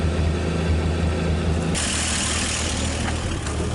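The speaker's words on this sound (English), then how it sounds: "All right, we got that idle on low now." A 1959 Chevrolet Apache truck engine idles low and steady, a continuous near rumble that holds evenly for a few seconds after its first start in years, with a brief rise in hiss midway.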